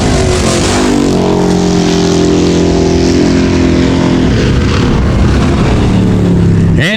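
Sportsman class dirt track race cars roar toward the checkered flag at a weekly racing series, a loud, steady engine drone with pitch sweeping as cars pass, ending in a sharp burst.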